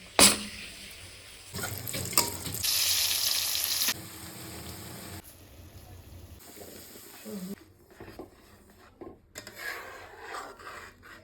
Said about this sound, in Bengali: এখানে মাছের মাথাটা ভাজা হচ্ছে